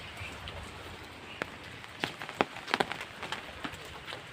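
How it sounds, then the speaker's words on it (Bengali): Monsoon rain falls steadily outdoors, a faint continuous patter broken by scattered louder drops striking nearby surfaces. "শুক্রবার আর সকাল থেকে হচ্ছে বৃষ্টি।"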